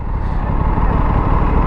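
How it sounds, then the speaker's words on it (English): An Aprilia RS 457 sport motorcycle gives a deep, continuous exhaust rumble, loud and close, as a steady throaty drone with no voices over it. "rumble of the exhaust"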